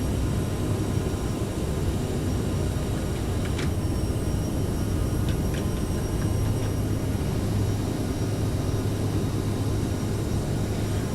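A CRJ regional jet climbing out after takeoff in Microsoft Flight Simulator 2020 on a Detroit to New York flight, a constant loud broadband engine roar with a steady low hum and no voices.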